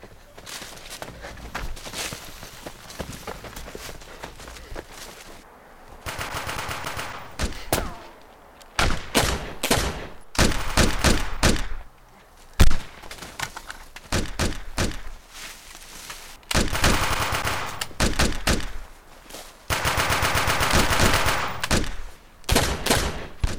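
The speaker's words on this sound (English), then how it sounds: "I heard gunshots." Bursts of gunshots and machine gun fire in a heist teaser scene, loud rapid volleys in several separate stretches with quieter pauses and footsteps between them.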